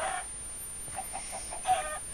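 Video game chickens cluck softly in short repeated bursts over a steady electronic hum, with no talking.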